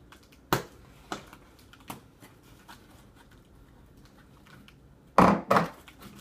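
Hands rummaging through foam packing peanuts in a box while unboxing a Makergeeks mini Kossel 3D printer kit: a few sharp, scattered light clicks, then a louder close rustling burst near the end.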